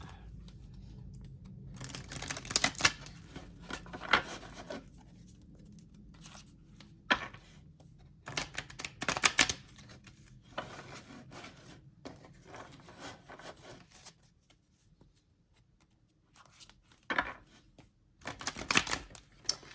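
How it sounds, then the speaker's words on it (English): Stiff tarot cards being shuffled in bursts of crisp riffling and clacking, close up, with quieter handling between and no talking. "These cards are a little stiff, so it's a little harder to shuffle"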